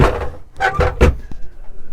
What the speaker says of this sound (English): The 2 doors just slide